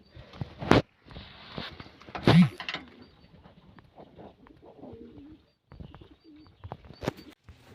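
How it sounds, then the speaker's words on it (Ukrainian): Fighting pigeons in a loft, soft cooing calls with a few wing flaps and bumps close by, quiet between bursts. "Голуби бойні, так як треба."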